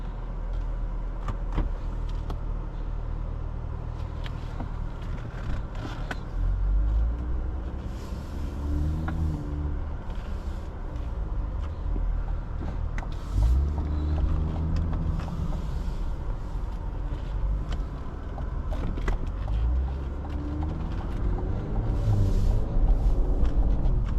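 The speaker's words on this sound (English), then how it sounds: "let's get this car out on the road and see how it drives." A 2024 Cadillac CT5-V pulls out and drives on the road, heard from inside as a steady low engine rumble and road noise with rising and falling engine revs and a few faint clicks.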